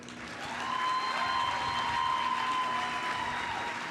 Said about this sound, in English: yes, clap for that brother.